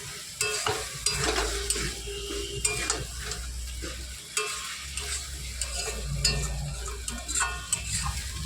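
Taro stolons stirred and sautéed in a pan, with repeated scraping stir strokes and clinks of the utensil over a continuous sizzle, close and fairly loud, no voices.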